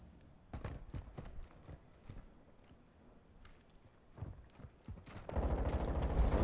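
Gunfire in a shooter video game, scattered sharp shots and short bursts at a distance, with irregular gaps, swelling into a louder, sustained clatter of fire at the end.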